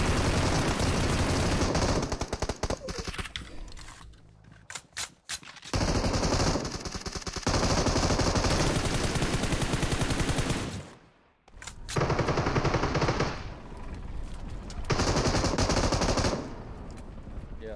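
Sustained bursts of automatic gunfire from a PUBG Mobile match, loud and dense, stopping briefly around the fourth and eleventh seconds before resuming in rapid strings.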